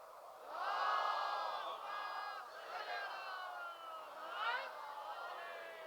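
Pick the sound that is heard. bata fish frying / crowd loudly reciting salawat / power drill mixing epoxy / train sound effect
crowd loudly reciting salawat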